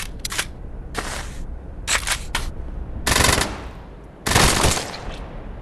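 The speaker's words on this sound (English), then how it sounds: "I know the sound of a skull getting hit by a bullet in this game and exploding." Bullet impacts in the VR shooter Tactical Assault VR, five sharp bursts of gunfire in quick succession, loud and close with short gaps, each bullet hitting a skull and making it explode.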